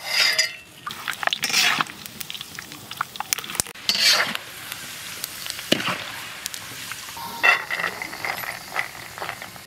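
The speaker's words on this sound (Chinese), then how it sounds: "先把花生米上锅炸一下" Peanuts going into cold oil in a pot and frying, with light crackling, clinks and stirring scrapes from a utensil against the pot, fairly quiet and intermittent.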